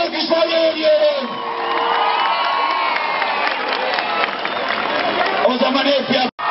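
Outdoor crowd at a Turkish political rally in Silivri cheers, whoops and applauds, swelling into a loud sustained roar before cutting off abruptly at the end.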